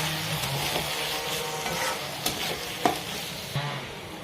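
Turmeric, chili powder and cumin powder being stirred and fried with ginger-garlic paste in a pan, a steady close sizzle with scraping strokes of the spoon and a few sharp knocks against the pan.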